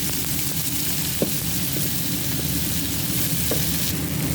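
Garlic and coriander frying in a pan for an okra dish, a loud, dense, continuous sizzle close by with faint stirring clicks and no voices.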